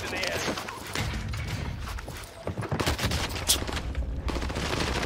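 Armaguerra 43 submachine gun firing in Call of Duty on Rebirth Island, fast automatic bursts mixed with other game gunfire, with someone talking over it.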